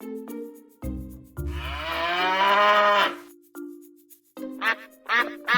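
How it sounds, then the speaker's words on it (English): Cows moo in a long, loud, close call, with shorter tonal notes before it and a few quacking, duck-like calls near the end. "5 cows,"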